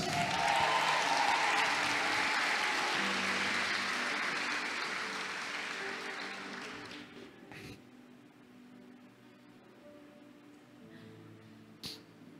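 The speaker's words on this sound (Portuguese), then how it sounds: "Você pode dar um beijo na sua Bíblia e aplaudir bem forte o nome de Jesus." A congregation at a worship conference applauds in a large hall, a strong sustained wash of clapping that dies away midway, leaving quiet room tone with a couple of isolated knocks.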